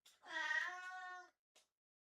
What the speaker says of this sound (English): my cat entered the room